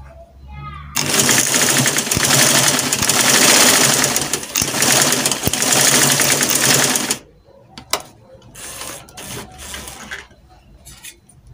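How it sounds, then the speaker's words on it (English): A sewing machine runs in a loud, steady burst of stitching for about six seconds as two dress linings are joined, then stops, followed by quieter handling noises and a few clicks. "so this way now I'm going to stitch it up straight."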